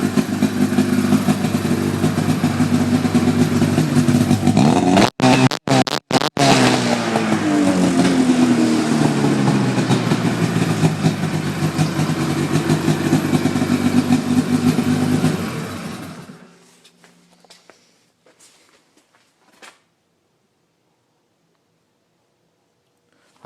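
A 2008 Arctic Cat Sno Pro 600 snowmobile engine runs loud and close with a steady buzzing drone and a few brief cut-outs, then shuts off around sixteen seconds, leaving near silence.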